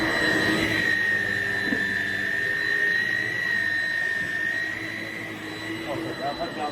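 Shark Rocket stick vacuum cleaner running on carpet, a steady high motor whine with a constant tonal drone that holds throughout, close and loud, with faint voices underneath.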